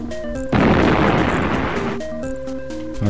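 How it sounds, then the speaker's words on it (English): A single loud, crackling bomb blast in the video game Sink or Swim erupts abruptly over a tonal chiptune melody, lingers for about a second and a half, then fades as the music resumes. "I'm gonna have to bomb some of these so I can reveal the exit"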